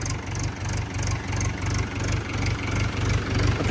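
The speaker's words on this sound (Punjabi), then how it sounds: "ਸਟਾਰਟਿੰਗ ਕਰ ਲਓ ਟਰੈਕਟਰ ਦੀ" A Mahindra 585 tractor that had stood unused for 15 days idles close by, its diesel engine throbbing in a steady, even rhythm of low pulses throughout, with no voices over it.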